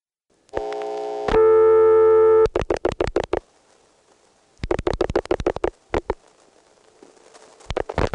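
Rotary telephone dialing codes on the 1974–1980 phone network: a steady dial tone, then crisp clusters of dial pulse clicks in separate bursts, with gaps between the digits.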